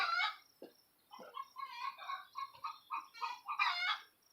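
Hens clucking and cackling inside a chicken house during egg-laying time, a steady run of close, overlapping calls with brief pauses, no talking.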